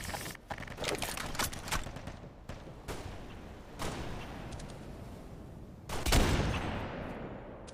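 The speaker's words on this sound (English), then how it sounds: "Who is shooting at me?" Gunfire from the Half-Life 2 video game cracks out in loud, sharp bursts with irregular spacing, several separate shots ringing out over a rumbling, noisy background.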